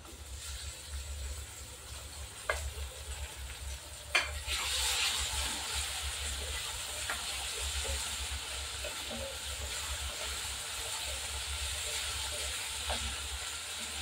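Tomatoes, onion and green chilli fry in a pan with a steady, soft sizzle and hiss, broken by a few sharp clinks and scrapes of stirring, heard close with no talk.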